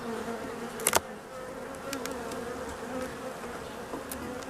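Honey bees hum in a continuous, steady drone close by at a hive on a hot day, joined by a couple of sharp knocks near the start.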